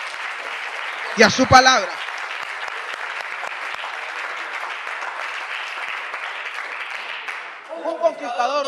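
A church congregation gives a strong round of applause to Jesus, a dense, steady wash of clapping lasting several seconds, with a preacher's voice briefly cutting in near the start and again as it fades.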